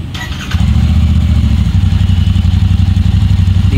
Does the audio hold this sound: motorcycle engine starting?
yes